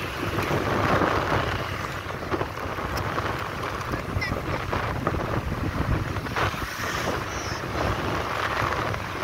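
Strong wind roars and buffets the microphone in a constant heavy rumble on a beach, with faint voices underneath.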